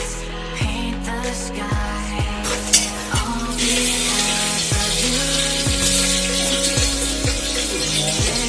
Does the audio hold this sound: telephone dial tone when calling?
no